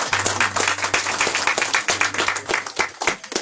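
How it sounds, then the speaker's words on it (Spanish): Members of a family church service congregation clap loudly in applause, a dense burst of hand claps with a low hum running underneath. "¿Por qué no podemos dar un fuerte aplauso al que valiente?"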